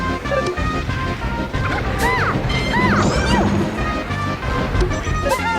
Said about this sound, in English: Good down smash to read that up B from Obi.